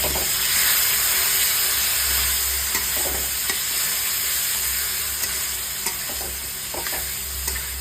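Cauliflower curry with yogurt sautéing and sizzling in a pan, a steady loud hiss of frying with occasional stirring scrapes throughout and no talk.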